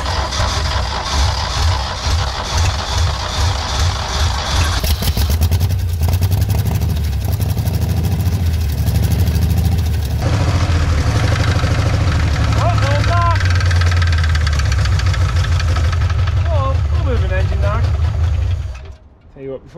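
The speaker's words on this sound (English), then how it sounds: "I'm sure this thing's got a rod knock either way" The Buick Dauntless odd-fire V6 in a 1965 Jeep, suspected of rod knock, runs loud and close with an uneven, lumpy idle and a heavy low rumble, a voice speaking over it, before it cuts off near the end.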